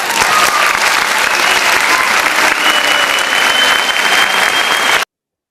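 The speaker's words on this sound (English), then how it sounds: "That applause really works." Sustained applause from an audience at the end of an academic talk, a steady dense patter of many hands clapping at full strength for about five seconds before cutting off abruptly.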